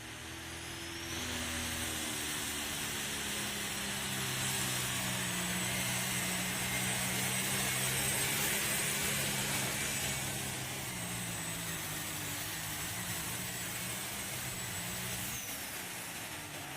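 A loud tractor-pulling engine roars steadily for several seconds, rising and holding a heavy, droning pitch before easing slightly, heard from a moderate distance at a tractor pull.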